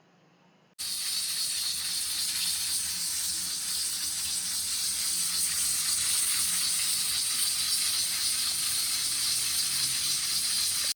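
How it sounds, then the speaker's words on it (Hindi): A pressure cooker holding chicken feet lets out a sudden, loud, continuous hiss of escaping steam that holds steady for about ten seconds after a short quiet start. "3 मिनट के बाद सीटी बजेगी, और सीटी बजने के 10 मिनट तक हम इसको पकाएंगे"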